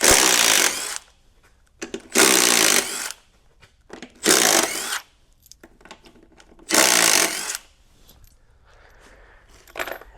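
Power tool removing fasteners from the front of a Tesla Model S battery pack: five loud, sharp bursts of a couple of seconds each, separated by near-silent pauses, close up, with no talking.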